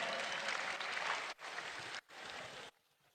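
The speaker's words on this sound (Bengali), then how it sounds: "তাদের সবার জন্য একটি জোরদার করতালি হবে।" Audience at a national film awards cultural program breaks into loud, dense applause that fills the space, cutting out briefly twice before resuming and then stopping abruptly.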